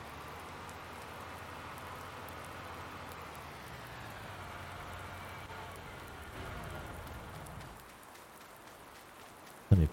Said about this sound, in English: This rain has surely helped.